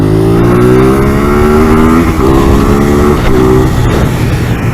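A Ducati Monster 821 motorcycle pulls hard in second gear on a road, its engine note droning loud and steady and climbing in pitch, with a brief dip around each gear change and wind rush throughout.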